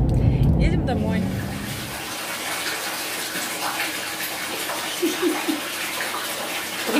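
Water gushes into a bathtub from the tap, a loud rush at first that settles into a steady running flow, with voices talking in the room over it.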